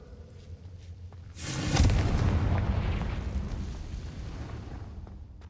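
Confringo explosion spell in the video game Hogwarts Legacy: a loud, booming blast erupts after a quiet start, then rumbles and slowly fades over several seconds.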